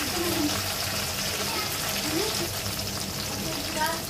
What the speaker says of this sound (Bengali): ওই চুলায় আমি ইলিশ মাছের লেজগুলো ভেজে নিচ্ছি।